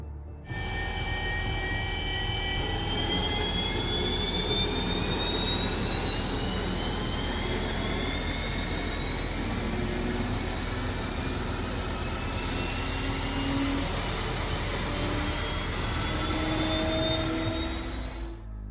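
A gas turbine engine running steadily at close range, a loud continuous roar with whining tones that rise slowly in pitch, unbroken for the whole stretch with no voices.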